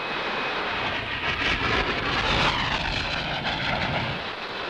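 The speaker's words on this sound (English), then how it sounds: "the Harrier demonstrated its vertical liftoff" A Harrier jet makes a vertical liftoff, its engine a loud continuous roar that swells in the middle and holds steady, with no voices.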